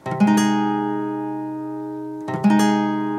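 A guitar chord strummed twice and left to ring, bright and clear, with one lower string damped so it doesn't sound.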